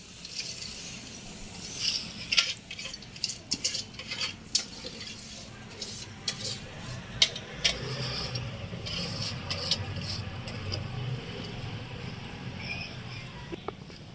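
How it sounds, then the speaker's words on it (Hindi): Fenugreek leaves fry in a pan with a soft, continuous sizzle, punctuated by repeated scraping and stirring knocks of a utensil against the metal, close and moderately loud. "अब हम इसे दूसरे पैन में फ्राई करेंगे"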